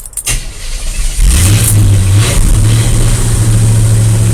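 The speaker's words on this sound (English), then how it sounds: "you keep your foot on the accelerator just a hair, keep the RPMs up" After a brief crank, a truck engine catches and runs being warmed up, its pitch rising as the revs are held up, then settling into a loud, steady high idle nearby.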